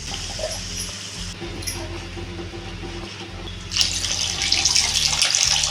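Water pours into a pot of tamarind curry with a rushing, splashing sound that grows louder partway through, over a low background hum.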